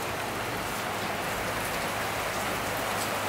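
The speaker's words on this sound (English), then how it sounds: "It was actually kind of a nice little rainy morning though." Steady rain falling on a morning in Fiji, a continuous even hiss of drops on surfaces, fairly close and unbroken with no voices.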